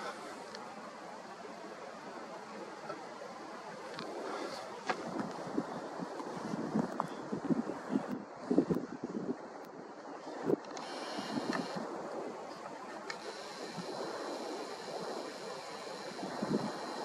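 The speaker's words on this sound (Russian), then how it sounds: "Дичайший ветер." Very strong wind buffets an outdoor microphone on a December evening of planet viewing, a continuous rough roar with irregular gusts and thumps throughout, no speech.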